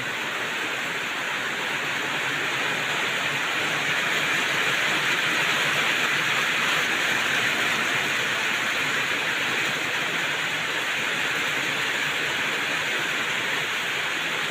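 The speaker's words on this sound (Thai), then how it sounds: "น้ำไหลแล้วครับพี่น้อง" Steady, dense rushing of heavy rain and flowing water, a constant loud hiss without pause or voices.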